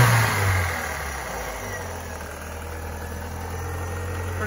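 Engine of a 1987 Ford Escort GT with a 5-speed, revved once at the start and then settling back to a steady, fairly quiet idle hum.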